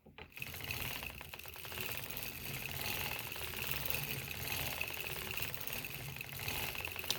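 A hand-cranked sock knitting machine turns steadily, a faint, quick mechanical clatter of rapid ticking and rattling that carries on evenly, close by and without voices.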